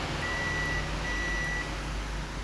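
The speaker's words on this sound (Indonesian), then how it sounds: "di sini kita ukur dengan skala bip." A multimeter on its continuity setting, testing speaker wires, gives two thin sustained electronic beeps in a row over a steady background hum.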